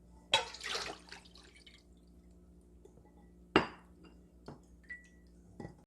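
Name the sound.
draining rinsed food, water dripping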